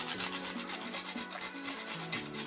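Nutmeg rubbed against a grater over a bowl of flour, a quick run of close scratchy rasping strokes, faint and rhythmic.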